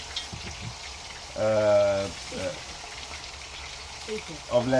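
Lamb pieces browning in hot ghee in a pot, a soft steady sizzle running quietly beneath a voice that talks over it.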